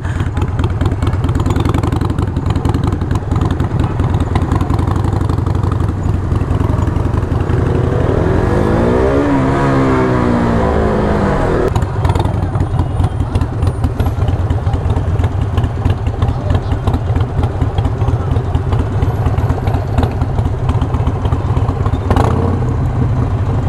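A new matte black Harley-Davidson motorcycle idles with a steady deep engine rumble, rising once in a smooth rev and falling back, close and loud throughout with no talking.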